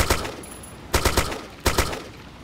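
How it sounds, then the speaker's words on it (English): Automatic gunfire in a first-person shooter video game, three short bursts of rapid shots about a second apart, sharp and loud with no talking. "you see someone walking, you just shoot them"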